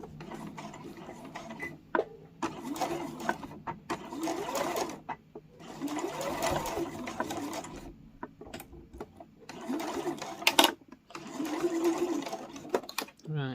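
Domestic sewing machine stitching fabric for a mini boxed pouch a quarter inch from the edge, running in several short bursts of steady whirring with pauses between, with a person speaking at moments.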